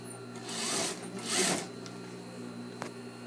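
Sewing machine stitching a shirt-dress collar to the neckline, a steady mechanical whir that swells in two short runs and then settles into a quieter hum, close and fairly soft.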